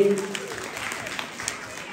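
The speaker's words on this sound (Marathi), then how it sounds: "वाजवा टाळ्या वेळींसाठी" An audience claps at a Home Minister Paithani game event in Chambli. The applause is a dense, steady patter that carries on, with voices mixed in.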